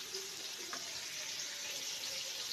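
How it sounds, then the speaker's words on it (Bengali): Eggplant slices fry in hot oil in a pan with a soft, even, continuous sizzle, quiet and steady with no talking. "একদম ভালোভাবে বেগুনটাকে ভেজে নিচ্ছি"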